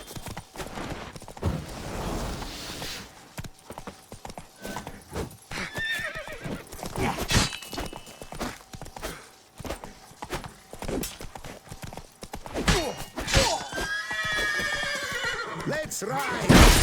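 A horse in The Witcher 3: Blood and Wine gallops with quick rhythmic hoofbeats and lets out loud whinnies and neighs, mixed with game combat effects and a voice speaking.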